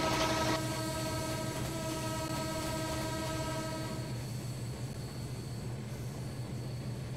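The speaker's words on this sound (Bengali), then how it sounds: "হরন বাজাতে হবে, সামনে রেল ক্রসিং আছে" A locomotive horn in a train simulator game blares a long tonal blast ahead of a rail crossing, cutting off after about four seconds, leaving a steady rumble of the rolling train that continues alone.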